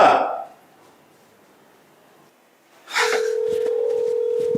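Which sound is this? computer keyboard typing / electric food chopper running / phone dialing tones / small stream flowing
phone dialing tones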